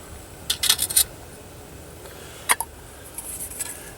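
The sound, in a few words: lid put on Esbit trekking cookset pot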